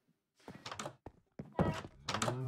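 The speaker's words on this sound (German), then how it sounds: "Knallt er mir die Tür vor der Nase zu." A wooden door slams shut in the Minecraft video game, giving a short, dull thunk among a few brief, voice-like game grunts in a quiet scene.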